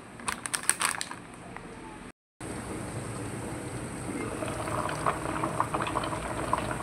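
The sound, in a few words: corn boiling in a pot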